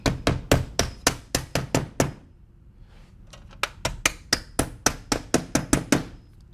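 A hammer fastens a shim inside the channel of horizontal cedar siding, giving a steady run of sharp, close strikes, then a short pause, then another even series of blows.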